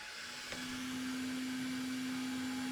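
A 3D printer powering up with a steady mechanical hum, likely its cooling fans, and a sustained tonal whine that kicks in after a soft click, close and constant with no talk.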